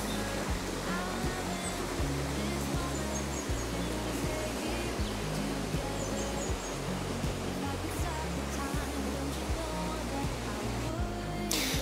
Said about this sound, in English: I can't think of anything better than having my ceremony accompanied by the noise of the running water